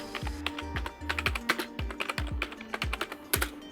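Quick bursts of clacking keystrokes on a computer keyboard, close and fairly crisp, irregular runs of taps with brief pauses and no talking.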